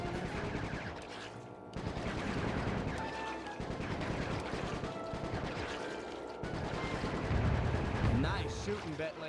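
Bursts of gunfire from the video game Sly Cooper 3, rapid shots mixed with crashes and game music, with dense, loud action throughout and a heavy impact near the end.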